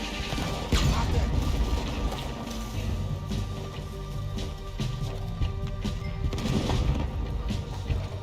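Gunfire and crashing impacts in a Red Dead Redemption 2 shootout, with loud, repeated shots and smashes over a constant, busy game soundscape.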